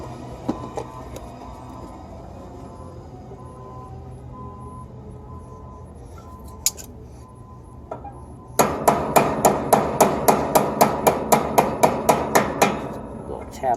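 A hammer taps copper pipe during HVAC/R pipe extension work, a quick run of about fifteen evenly spaced metallic knocks following a quieter stretch of low background noise.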